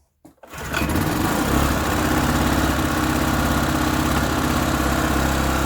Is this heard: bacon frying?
no